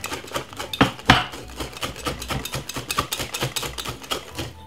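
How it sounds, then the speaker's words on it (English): A whisk beats blueberry muffin batter in a bowl, making fast, regular clattering strokes with sharp ticks against the bowl's side, close and fairly quiet, with no talking. "use a whisk and give it a whisk"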